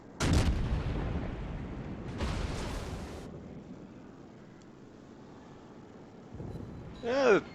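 Naval gunfire at the Bismarck in a World of Warships-style game from the USS Baltimore on the Atlantic map, with loud booming salvos at the start and again around two seconds, then a rumbling lull and a rising whine at the end.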